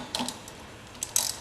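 Tightening a chuck inside a paper core on a Collins Craft slitter makes a few quick mechanical ratcheting clicks in short bursts, close and fairly crisp.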